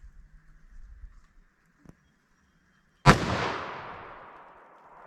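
A single loud, close gunshot from a Smith & Wesson 686 .357 Magnum revolver with a 4-inch barrel, firing a Winchester 110-grain load, cracks sharply and rings out in a long decaying tail after a few quiet seconds of faint background noise.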